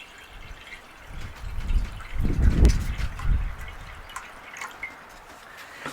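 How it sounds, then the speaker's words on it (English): Water pours into a pan, swelling from a light trickle into a fuller splashing gush and then tapering off into scattered drips. "We're going to start by filling our pan with some water."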